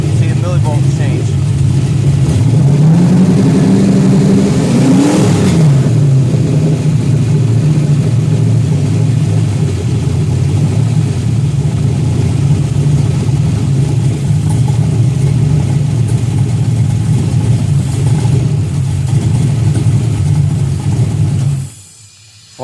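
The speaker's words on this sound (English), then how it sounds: "you can even hear when the engine stumbles" An LS car engine idles and revs up then settles, holding a steady drone before cutting off abruptly at the end, with people talking over it.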